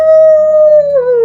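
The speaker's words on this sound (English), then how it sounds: "A very large howl." A single loud, sustained howl from a large canine-like creature, a clear tonal wail holding steady and then sliding slightly down at the end.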